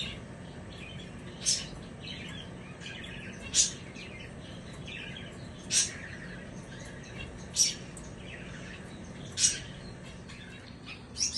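Finches in a home aviary give sharp, high chirps roughly every two seconds, regular and fairly distinct, over a low steady background hum and faint room noise.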